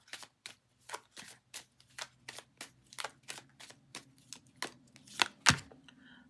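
Deck of tarot cards being shuffled close by, a quick run of soft, crisp flicks and riffles ending in two louder snaps, with no talking.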